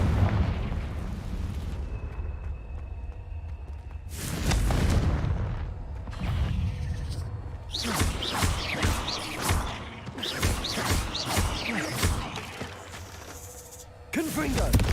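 The Confringo blasting curse sets off several loud, booming explosions in a video game, with crashing bursts and rumbling debris between quieter stretches.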